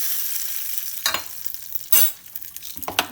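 Spices tempering for Bihari moong chutney sizzle in hot oil in a pan, with a few sharp crackling bursts over a soft, steady frying hiss, heard up close.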